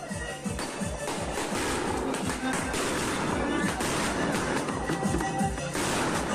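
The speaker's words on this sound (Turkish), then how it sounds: "Bu kez bir düğünde havai fişek bomba gibi patladı." Dense, continuous crackling bursts of fireworks going off in rapid succession at a wedding, loud and chaotic, with a busy crowd noise underneath.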